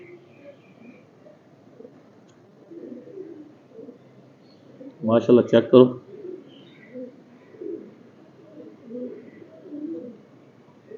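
Shaki breed pigeons cooing in a short, throaty burst midway, rising clearly above ongoing conversation and quieter background noise.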